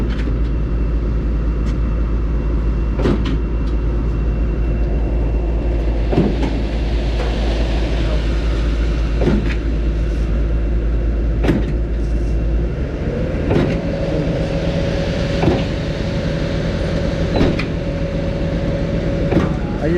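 A Mud Demon concrete line pump works steadily, its low drone overlaid by regular knocking strokes every couple of seconds, with a tonal hum rising partway through as revs increase; loud and close, no talk.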